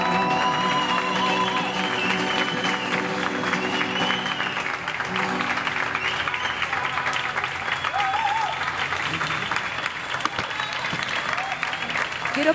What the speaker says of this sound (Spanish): Quiero pedir un aplauso para los guitarristas que están aquí detrás